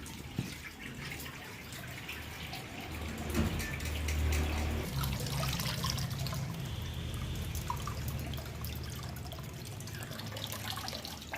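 Khoya (milk solids) is washed by hand in water, with continuous splashing, sloshing and dripping close by and no speech.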